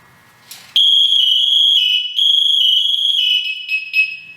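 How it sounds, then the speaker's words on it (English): A Scott SCBA PASS alarm blares alone after a brief quiet lead-in, sounding as a loud, piercing, steady electronic tone that holds with slight pitch warbles and small dips toward the end. "So I'm going to activate the pass alarm, and you're going to hear how loud it is."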